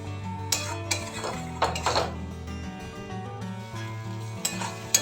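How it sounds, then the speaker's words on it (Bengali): Poppy seed paste with ridge gourd is stirred in a pan over a medium gas flame, a spoon scraping and clinking against the metal in irregular strokes over a low, steady hum, with no talk. "এটা অনবরত নাড়তে থাকবো একটু ঘন একটু পেস্ট হওয়া পর্যন্ত"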